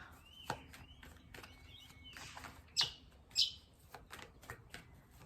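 A bird calls outdoors in a quiet setting, giving a few short, sharp chirps spaced apart amid soft background noise and faint clicks.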